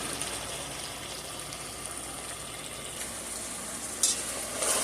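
Ground beef for chili fries in a pan, giving a steady, even sizzle throughout, with a couple of brief louder spits near the end and no voices.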